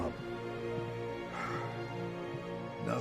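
Sled dogs bark and yip in short, faint bursts amid other background sound, a few quick calls spread across a brief stretch.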